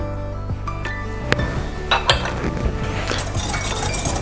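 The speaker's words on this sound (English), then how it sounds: "we mix them all together first" Sugar, flour and baking soda being combined in a mixing bowl for mango bars, with utensil clinks and scrapes against the bowl at irregular intervals, close and moderately loud, without talk.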